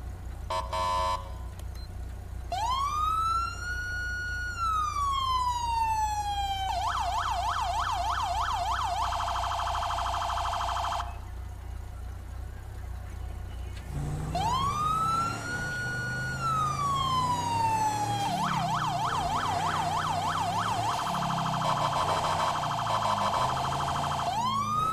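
Loud electronic police sirens from a FiveM game mod cycle through patterns: a rising wail, rapid yelping warbles, and a steady tone, repeating twice with a brief pause between.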